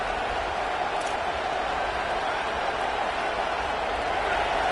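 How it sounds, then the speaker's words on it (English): Sustained roar of a stadium crowd cheering in the College Football 27 video game, a dense, steady wall of noise holding at full volume throughout with no distinct peaks. "This crowd, full throat, spreading the eardrums"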